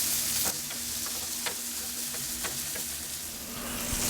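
Breakfast sandwich fillings sizzle on a Blackstone griddle, a loud, dense frying hiss with scattered pops and light scraping clicks throughout.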